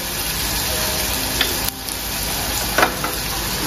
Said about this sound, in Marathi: कांदा होईल आता मस्तपैकी परतून घ्यायचा आहे